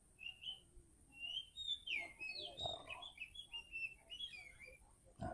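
A kacer (oriental magpie-robin) molting, calling in a rapid series of varied whistles and chirps, fairly faint and continuous with low background noise.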